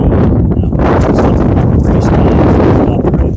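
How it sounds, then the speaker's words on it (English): Strong wind buffets a microphone outdoors in a garden while lettuce is being planted, a loud, continuous low rumble with constant gusty roar and no clear pauses. "boy, that wind's a kicking up now."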